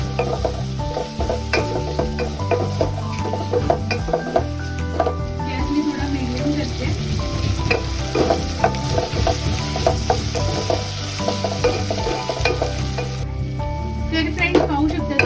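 Ginger-garlic paste and tomato going into softened onion for pav bhaji, sizzling loudly and continuously in a pan with frequent spatula scrapes and knocks, close and without talk.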